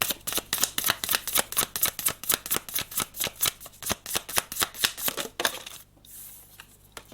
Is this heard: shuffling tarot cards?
yes